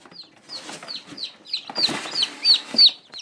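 High, thin peeping from newly hatched chicks being taken from an incubator repeats rapidly, with soft rustling and handling noises underneath, close to the listener.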